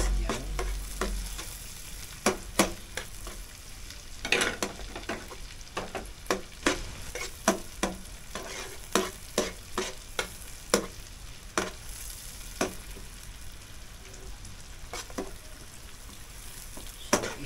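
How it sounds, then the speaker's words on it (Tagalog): Onions frying with garlic in a pan for a seafood boil, a low continuous sizzle under frequent sharp scraping stirs of a utensil against the pan, irregular and close, with no one talking. "lalagay na natin ang ating sibuyas"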